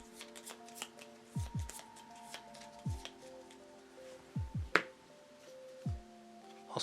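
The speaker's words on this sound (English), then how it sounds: "forgot to shuffle these beforehand" Playing cards being shuffled at a tabletop session of Warhammer Quest: Cursed City, a run of quick riffling and snapping bursts at close range with brief pauses between them, no one talking.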